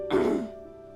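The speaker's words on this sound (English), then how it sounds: "sorry for that big cough." A single big cough bursts out close by, loud at first and trailing off into a quiet room.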